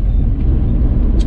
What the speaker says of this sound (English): You're gonna hear a little bit of grinding.